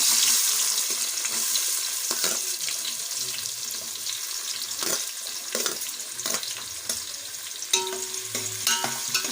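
Onion frying in a pan for egg biryani, a bright hiss of oil broken by repeated spatula scrapes and stirring knocks at close range, the sizzle settling slightly as it goes.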